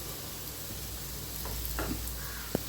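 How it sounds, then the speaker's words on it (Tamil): Meal maker cutlets fry on a tawa with a soft, steady sizzle, fairly quiet, with a few faint scrapes and a small clink near the end. "நான் இப்படி தவாவில் போட்டு செய்கிறேன்"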